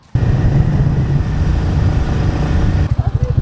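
A Royal Enfield Classic 350 Stealth Black motorcycle thumps along on a ride, its steady single-cylinder engine loud and close throughout, then falls into a slower, uneven pulsing chug near the end.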